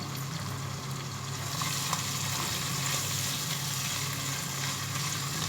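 Minced beef keema with chopped tomato sizzles steadily in a pan, a continuous close frying hiss with light stirring throughout and no voices.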